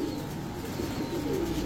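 Pigeons coo softly at a pigeon market where a yellow Maidom pair is on sale, a faint low murmur of cooing under steady background noise.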